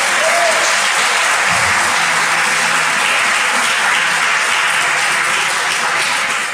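A church congregation bursts into steady, loud applause that fills the room evenly from start to finish, a dense wash of many hands clapping with no talk on top.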